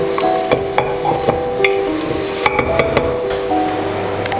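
Marinated mutton sautéing in a hot pan while being stirred, with a steady sizzle and repeated scraping and clinking of a spoon against the pan, close and continuous.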